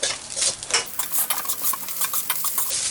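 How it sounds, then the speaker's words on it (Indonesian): Seafood nasi goreng stirred in a pan with melting margarine, a close, lively run of scraping spatula strokes over a soft sizzle, the strokes coming in quick irregular bursts. "Setelah itu kita aduk lagi, cukup sampai margarinnya meleleh saja"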